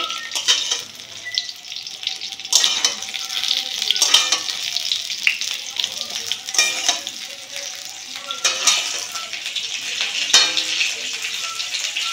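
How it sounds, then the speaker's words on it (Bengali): Slices of pointed gourd (potol) fry in hot oil with a bright, continuous sizzle, broken by repeated scraping and clattering strokes as they are stirred in the pan. "তেল গরম হয়ে গেলে পটলগুলো ভালো করে ভেজে নেবেন"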